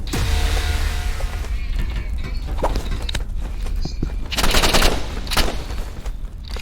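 Rapid gunfire bursts in a video game, sharp cracks and short volleys spread across the clip with a louder cluster near the end, over steady game background noise.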